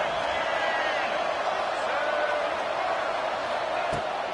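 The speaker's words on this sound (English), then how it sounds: "The crowd electric, trying to help Tech on this third down." Stadium crowd at a college football game during a Texas Tech third down, a dense, continuous roar of cheering and noise, loud and steady throughout.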